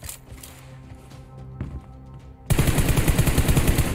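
Rapid automatic gunfire from a mobile shooter video game, a 1v1 team deathmatch fight: sparse shots at first, then a loud dense burst of continuous rapid fire taking over for the last second and a half.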